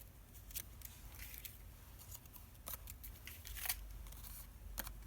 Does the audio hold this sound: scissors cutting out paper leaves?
yes